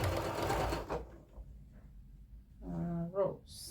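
A sewing machine stitches quilt fabric cut on the bias, a short whirring run heard after a burst of speech-like sound and a quiet pause.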